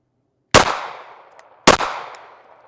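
Two sharp, loud gunshots from a Ruger RXM compact pistol at an outdoor shooting range, about a second apart, each with a short ringing decay.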